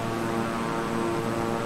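Steady twin-engine propeller drone of a King Air 350i cruising in Microsoft Flight Simulator, a continuous even hum with tonal whine, close and constant with no talk.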